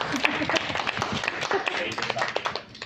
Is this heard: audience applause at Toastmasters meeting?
yes